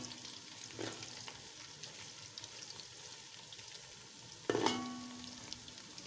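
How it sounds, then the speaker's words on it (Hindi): Beef kababs fry in a pan with a soft, quiet background sizzle, broken by a few stirring scrapes and a sharper clatter around the middle of the stretch; nobody speaks. "अभी थोड़ी देर इनको करते हैं फ्राई उसके बाद बाकी मसाले डालते हैं"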